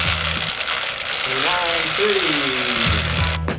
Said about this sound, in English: pedal backwards. I go about 30 times.